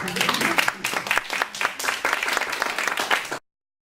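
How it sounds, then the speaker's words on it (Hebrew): Concert audience applause at a Holocaust Remembrance Day concert in a Galilee music center, steady dense clapping from a crowd lasting a few seconds before cutting off abruptly. "מותר למחוא כפיים."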